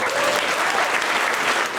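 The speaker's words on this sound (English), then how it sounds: "Round of applause for the young lady." At a live stand-up comedy show in Canada, the crowd breaks into a short, loud, dense round of applause, an even roar of many hands clapping with cheering mixed in.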